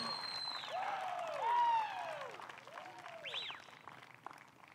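A crowd cheers and applauds at a women's pro disc golf tournament, The Open at Austin, after a long putt drops, with rising whoops and shouts over steady clapping that swells midway and carries on.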